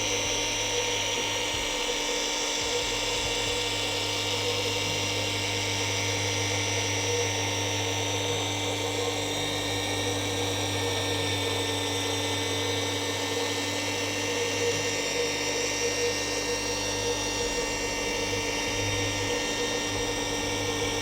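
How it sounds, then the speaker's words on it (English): Oscillating car polisher spins its pad against automotive paint with a steady high whirring whine and a low motor drone, close and continuous, alone without talk. "the pad is still spinning and oscillating"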